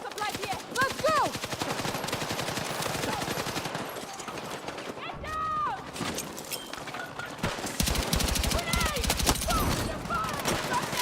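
Sustained automatic fire from an AK-205 rifle in Battlefield 6, rapid bursts cracking continuously with brief pauses, loud and close, layered with other in-game battle noise.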